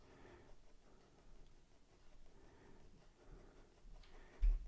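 Faint, soft scratching of a pencil lightly stroking across paper, steady and quiet with small pauses, heard alone.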